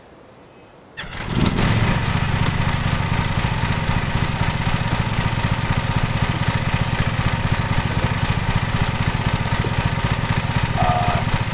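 A riding lawn mower engine in a video game cranks and starts after a brief quiet, then settles into a loud, steady, rhythmic running drone that continues throughout.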